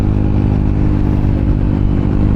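A Yamaha TMAX maxi-scooter engine runs steadily at a constant idle, a loud, close, even hum with a rough mechanical edge and no revving or voices.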